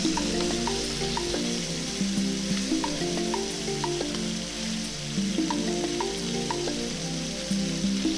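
A fish steak sears in a hot frying pan, crackling and spitting steadily like light rain, with scattered sharp pops over a continuous sizzle, close and fairly loud, no talking.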